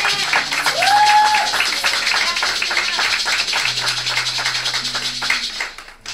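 A church congregation cheering and applauding, steady dense clapping mixed with shouts and whoops, with a voice talking and a sustained background tone through the middle.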